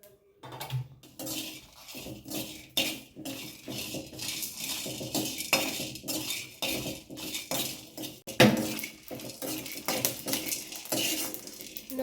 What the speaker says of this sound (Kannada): ಜೀರಿಗೆ, ಅದೇ ರೀತಿ ಕಾಳು ಮೆಣಸು, ಒಣಮೆಣಸು ಹಾಗೂ ಗಾಂಧಾರಿ ಮೆಣಸನ್ನು ಹುರಿಬೇಕು